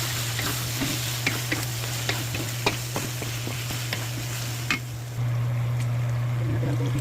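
Menudo with plenty of potatoes and tomato sauce stirred in a pan, scraping and clacking of a utensil in an irregular rhythm over a steady sizzle and low hum, close and fairly loud.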